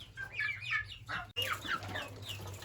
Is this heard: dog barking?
no